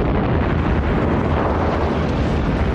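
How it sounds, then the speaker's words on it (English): Wartime bombing explosions, a dense continuous low rumble and roar of blasts filling the whole stretch, loud and unbroken with no distinct individual bursts. "the Japanese bombed the northern city of Darwin"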